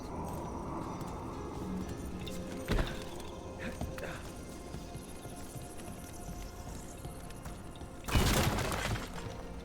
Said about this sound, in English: me just smashing bricks to pieces to get loot